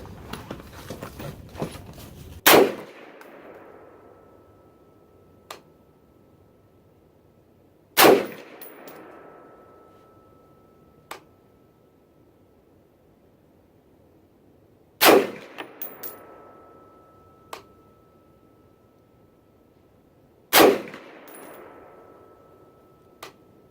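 A Palmetto State Armory PA-65 rifle in 6.5 Creedmoor fires four loud, sharp shots spaced several seconds apart outdoors, each cracking and then ringing out in a decaying echo, with faint clanks and small noises between.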